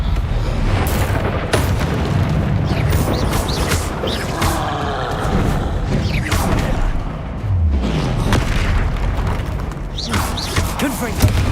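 Repeated Confringo spell blasts in the video game Hogwarts Legacy, loud booming explosions with whooshing bursts recurring over a dense, continuous game soundscape.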